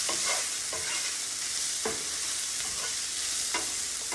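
Bacon fries with garlic and shallots in a pan, a steady loud sizzle running throughout while a utensil scrapes and stirs in several distinct strokes.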